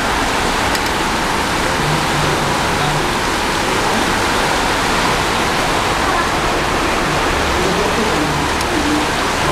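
Heavy rain falls in a steady, dense broadband hiss that stays constant and loud throughout, with no breaks.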